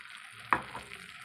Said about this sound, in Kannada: ಇವಾಗ ಒಂದು ಸ್ವಲ್ಪನೇ ನೀರನ್ನು ಹಾಕ್ಕೊಳ್ತಾ ಇದ್ದೇನೆ.